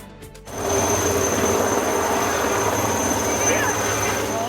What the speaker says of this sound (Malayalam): കൊച്ചിയിലുള്ള cost ഗാർഡിന്റെ Chetak helicopter കോതമംഗലത്തിനടുത്തുള്ള Chelad dental college ഗ്രൗണ്ടിൽ ഇറക്കിയത്